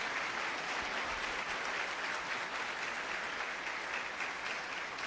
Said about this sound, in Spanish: Cántale un aplauso al Rey.